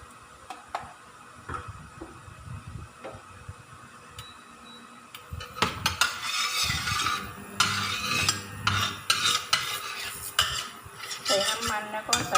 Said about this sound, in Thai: น้ำมันเอาผัดกุ้งให้แห้งก่อนนะคะ